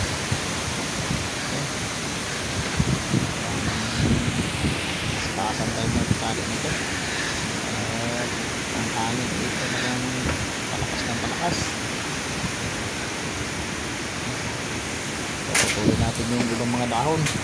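Strong typhoon wind in Rizal, Occidental Mindoro, roaring as a continuous dense rush with gusty swells and occasional rattles and knocks, and a voice faintly under the gale at moments.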